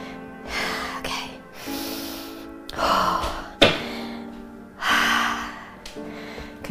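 Heavy breathing after an upper body workout: loud, close gasping inhales and exhales in uneven bursts, with a sharp thump partway through and no talking.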